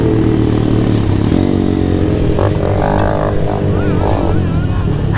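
A Kawasaki Z900 superbike engine revving on a mountain road in Dehradun, a loud, close, continuous growl with rising and falling pitch as the rider accelerates.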